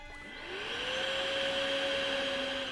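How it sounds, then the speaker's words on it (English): A vacuum cleaner motor spins up and then runs at a steady, loud whine, holding a constant pitch close by with no voices over it. "She pulled out the vacuum cleaner."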